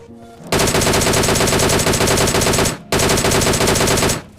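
DP light machine gun in a mobile battle royale shooter, firing two long sustained bursts of rapid, loud, close automatic fire separated by a brief pause.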